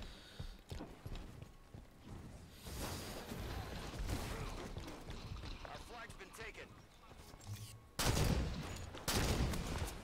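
Gunfire in a shooter video game crackles in rapid bursts beneath ongoing talking, with louder volleys near the end.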